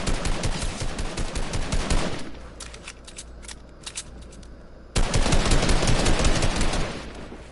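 Rapid automatic gunfire from the video game Fortnite rattles in dense bursts, pausing briefly before another loud sustained volley, close and dominant.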